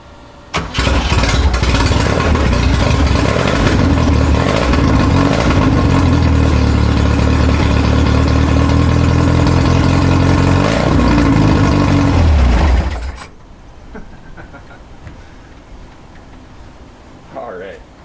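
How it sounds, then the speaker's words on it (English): A 1967 Volkswagen Fastback engine revs loud and sustained for about twelve seconds, with rising and falling throttle, then cuts off abruptly, leaving quiet background. "so we're gonna see if it'll rev."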